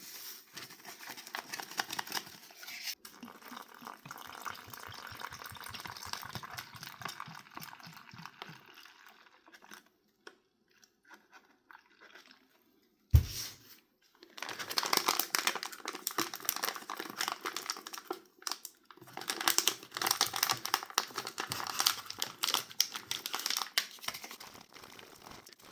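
Cold water sloshing and shaken with MRE drink powder inside a plastic pouch, giving crinkly rustles and crumpling bursts, a short quiet gap midway, then louder vigorous crinkling and shaking up close.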